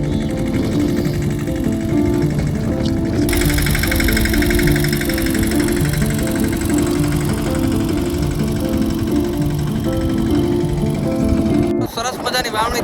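A tractor engine runs steadily throughout during field sowing, a close, loud, even drone with a constant mechanical hum and no breaks.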